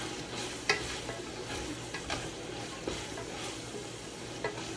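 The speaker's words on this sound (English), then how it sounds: "I'm going to go ahead and stir all those onions up and get them mixed up with this meat" Onions being stirred into meat in a pan, a steady broadband sizzle with scattered utensil scrapes and light clicks, close and even throughout, no voices.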